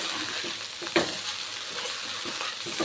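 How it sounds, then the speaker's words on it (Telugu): Rice fries in a pan for restaurant-style chicken fried rice, a steady close sizzle with occasional stirring scrapes and clinks, no voices. "చూసారా ఎంత బాగా ఫ్రై అవుతుందో రైసు."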